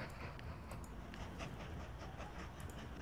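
Train running in the video game Mashinky, a steady rumbling roll with faint clicking wheel sounds, continuous and moderately quiet with no talking.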